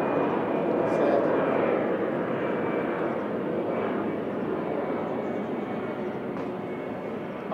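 A fixed-wing airplane passes overhead outside during a school prize-giving, its broad, steady engine roar filling the whole stretch while a speaker's voice continues faintly over it.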